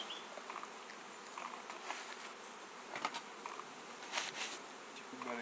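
Honey bees hum and buzz steadily in a close, dense swarm as they are shaken off a hive frame, with soft bumps and taps scattered through.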